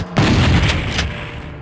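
An explosive barrel is shot and bursts in the first-person shooter Doom 64 Retribution, giving a sudden loud booming blast that rumbles and fades over about a second and a half.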